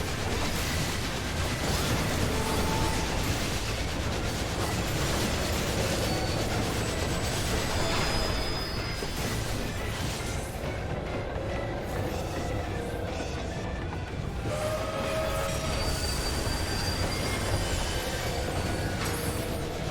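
Train in the video game Final Fantasy XIV, a loud, dense rumble with rattling and clanking that runs continuously, with occasional bursts and metallic tones over it and no talking.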